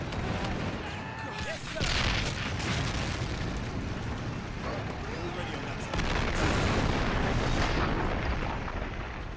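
Mortar shells fire and burst in the Men of War battle game, a dense run of booming blasts and distant explosions rolling on under players talking.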